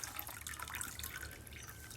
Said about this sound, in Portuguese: eu descarto essa água